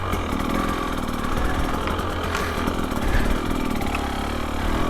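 A 2025 KTM 300XCW Champion Edition two-stroke dirt bike engine idles close by on a slippery, rocky riverside trail, a steady burbling putter with slight uneven blips.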